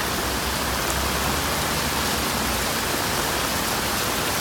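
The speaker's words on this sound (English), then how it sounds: "This is just too much rain." Heavy rain pouring down in Tai Po, Hong Kong, a dense, continuous hiss of downpour filling the whole stretch, loud and steady with no voices.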